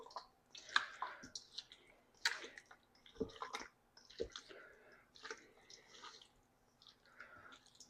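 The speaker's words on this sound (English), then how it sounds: "Now we're going to stir it up or toss it. Kind of just to coat all of these with barbecue sauce." Pieces of pork belly are tossed in barbecue sauce, making soft wet squishes and sticky clicking and slapping sounds in irregular bursts, close and fairly quiet, with no talk.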